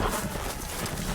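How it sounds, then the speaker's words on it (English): Horse hooves clatter in a fast, continuous gallop in the Game of Thrones video game, a brief, loud burst without speech. "And there goes the horse."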